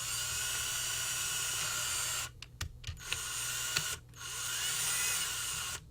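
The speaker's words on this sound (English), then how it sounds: "So as I'm drilling through this, I still haven't executed the first hole." A drill bores steadily through a Kaba Ilco 7205SX1 lock cylinder, a continuous high whine close to the mic that cuts out briefly in the middle with a few clicks before grinding on.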